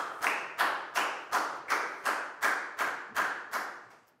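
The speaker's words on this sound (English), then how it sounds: "a big round of applause for Lak Gao" A Year 4 maths class claps in steady unison for a classmate, about ten even, sharp claps spaced roughly a third of a second apart, moderately quiet with no talking.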